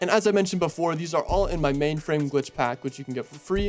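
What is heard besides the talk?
No everyday noise stands out behind the speech.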